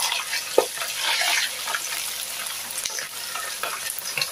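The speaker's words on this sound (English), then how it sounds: "Start by frying our beef." Steady sizzling and crackling of beef frying in a pan, with occasional stirring scrapes; close and continuous, no talking.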